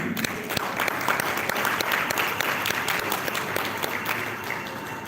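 An audience at a writers' prize event applauds shortlisted writers with steady, even clapping that holds for about five seconds at moderate distance.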